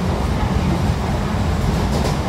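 Steady rumble of a passenger train running from Sealdah to Siuri, heard from inside a nearly empty carriage, with continuous low rolling noise and wheel rattle.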